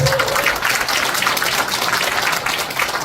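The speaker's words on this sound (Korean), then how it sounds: "첫 강의를 멋지게 펼쳐주신 우리 김현철 교장 선생님께 다시 한번 박수 부탁드리겠습니다" At a Korea–Denmark peace education forum in Pocheon, an audience applauds principal Kim Hyun-cheol after his lecture, a steady, loud wash of clapping throughout with no clear talk.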